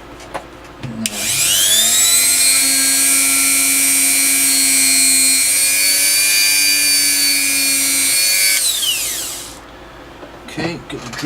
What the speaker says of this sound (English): get the drill out of the way